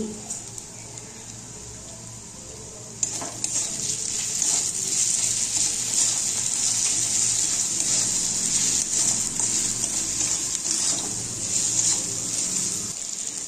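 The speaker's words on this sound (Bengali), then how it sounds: "মশলা যাতে পুড়ে না যায় তার জন্য দিয়ে দিচ্ছি জল।" Water poured into a pan of ground spices (cumin, dried chili, coriander, salt and sugar) frying for a korma sets off a loud, steady sizzling hiss that carries on for over ten seconds.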